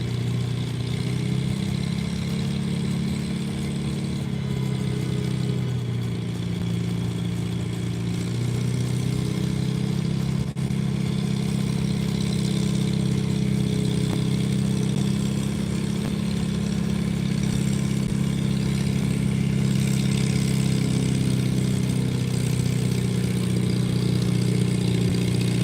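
A tractor engine idles steadily at a tractor pull, a continuous low rumble that holds for the whole stretch, loud and close with no talk over it.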